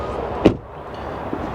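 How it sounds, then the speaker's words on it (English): Damaged side door of an old Dodge conversion van that won't close, giving one short dull thud against a quiet background, followed by a faint softer knock. "The door doesn't even close."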